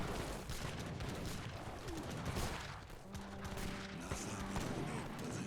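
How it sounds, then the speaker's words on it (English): Fusiliers fire massed musket volleys in Age of Empires 3, heard as a dense crackle of gunfire under a steady battle din with faint tonal game sounds. "Big volleys on top of the Fusiliers"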